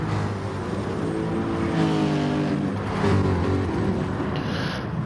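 Group 4 race cars in a sim racing game roar continuously at high revs, with loud, dense engine drone and slight shifts in pitch as cars run close together on track; no talk.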